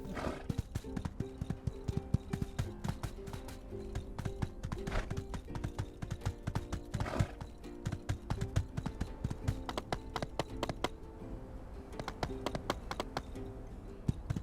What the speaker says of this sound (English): Such a good horse. You're such a good horse.